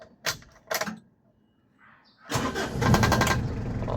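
A 2016 Mitsubishi L300 Exceed engine starting, with a couple of sharp clicks and a brief whir before the engine catches and settles into a loud, close, steady running rumble.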